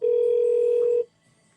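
A telephone gives a single steady electronic tone for about one second and then cuts off into near silence, heard alone and close.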